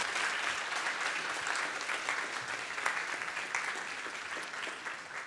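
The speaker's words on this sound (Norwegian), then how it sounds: "en applaus skal vi gi dem det igjen." Audience applause at an open meeting on the refugee crisis and NTNU's contribution, steady sustained clapping from a large crowd lasting several seconds at an even level.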